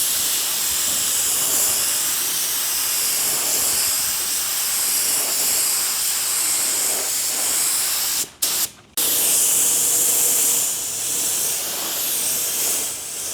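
A spray gun lays primer coats over body filler on a car, a loud, continuous close-up hiss that breaks off briefly twice between passes before resuming.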